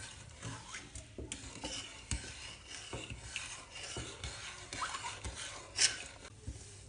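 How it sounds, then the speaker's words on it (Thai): Steady stirring and scraping of a spoon in a pot of warm water as sugar and salt dissolve, close and fairly quiet, a continuous swirling rasp with small clinks. "คนส่วนผสมให้ละลายก่อนนะคะ"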